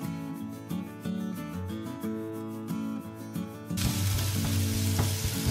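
Chopped onion hits a hot pan for black fideuà and bursts into a loud hiss of frying. The sizzle rises suddenly and holds steady over background music.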